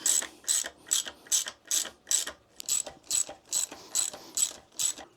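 A ratchet wrench clicks steadily in about a dozen rapid bursts, loosening Torx bolts on an Africa Twin motorcycle during a refurbishment, close and clear with no talk.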